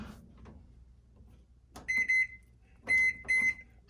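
A microwave oven sounds a series of short, clear electronic beeps in two pairs after some quiet handling noises, close by and with no talking.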